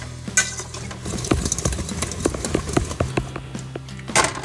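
Moose minute steaks for chicken-fried moose are stirred in a dish, giving irregular scraping and clinking utensil sounds against the dish over a low background hum, up close.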